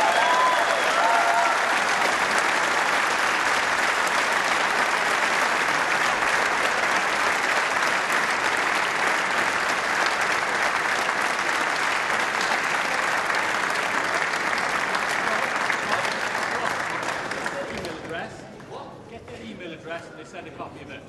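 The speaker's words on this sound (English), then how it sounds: "Let's give him another round of applause" Sustained audience applause at the UK Championship snooker, with a large crowd clapping loudly and continuously for a ten-year-old's walk-on, then fading away in the final few seconds.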